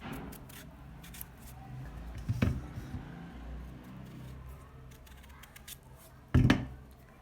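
Potatoes are cut by hand into thin slices. The faint, close cuts come in a scatter of soft crisp strokes, with two louder chops standing out from a quiet background.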